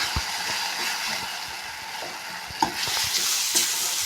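Tomato chilli masala for samosa filling frying and being mixed in a pan: an even, busy sizzle with a few light knocks and scrapes from stirring.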